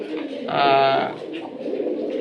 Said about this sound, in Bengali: কবুতরের এটা জাত হচ্ছে গিরিবাস।